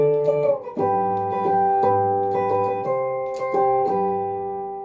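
An electric lead guitar plays a lick high up the fretboard, a melodic phrase of sustained, ringing notes with a few quick changes, heard alone and fairly loud.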